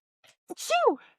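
One close, sharp sneeze with a short intake of breath before it, then quiet.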